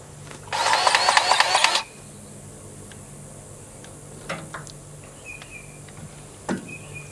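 A grease gun works a zirk fitting on a Caterpillar 941 Traxcavator, giving a loud burst of rapid ratcheting clicks for about a second, followed by quiet sparse taps and small clanks over low background hum.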